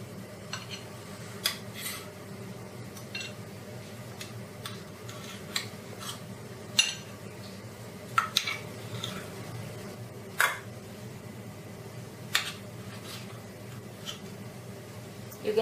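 A spoon scrapes and clicks against a metal idli tray as steamed South Indian idlis are lifted out, small sharp taps scattered over a quiet background hum.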